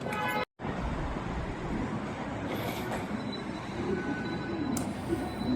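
Continuous rumbling roar of a metro train in motion in Xi'an, China, with a steady rattle and a brief high squeal, heard from inside over a dense low hum.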